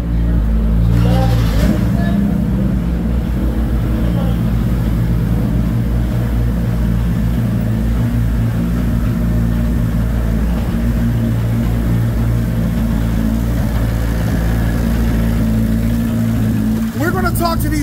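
A Chevrolet Corvette C8 Z06 runs loud and steady on a race track, its engine droning continuously with a brief surge near the end.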